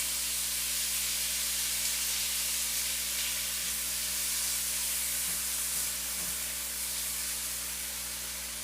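Tomato sizzling in a hot pan with garlic, a loud, continuous, bright frying hiss that holds steady throughout, with a few small pops and stirring bumps midway.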